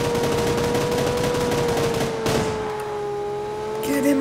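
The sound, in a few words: automatic gunfire in video game New State Mobile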